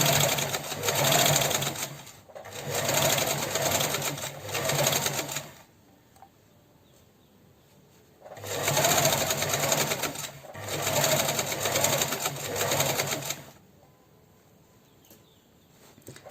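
A sewing machine stitches shorts, running in two long bursts of steady whirring, each broken by brief pauses, with quiet gaps between as it backstitches along the seam.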